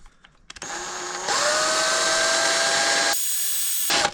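Power drill boring a hole during a Honda CR-V brake job, a loud steady whirring that ramps up after a short start, holds for a few seconds, then drops and surges again briefly near the end.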